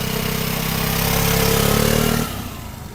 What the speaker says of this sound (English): So my throttle is on, rear brake's applied. Watch what happens when I release the brake.